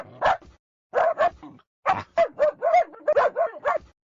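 A cartoon puppy barks in a game-style computer setting, giving a quick yip first and then a run of sharp, bouncy, high-pitched barks in close succession, loud and close with short pauses between bursts.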